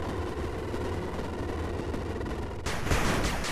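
A machine gun turret in the game 8-Bit Armies fires in a dense, rapid stream of shots, growing louder and harsher near the end.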